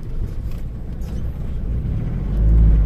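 A Volkswagen Kombi van drives along a Brazilian road, a steady low engine and road rumble that swells louder near the end, with no voices.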